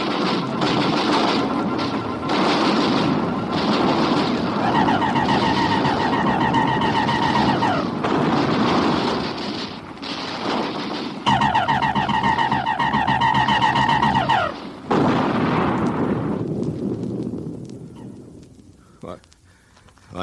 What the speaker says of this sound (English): All batteries, repeat fire!